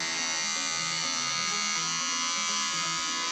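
A BaByliss MEN Crewcut electric hair clipper with a number 4 guard buzzes steadily and close, its constant motor hum shifting slightly as it runs through hair, with no talk.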